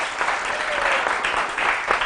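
Dense, steady clapping from a studio audience at a weekend television show, a loud crowd of hands that carries on evenly and alone for about two seconds.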